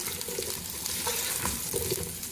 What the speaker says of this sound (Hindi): ऑयल हमारा गर्म हो चुका, उसमें टिंडे शामिल करेंगे। इसको हल्का सा फ्राई करेंगे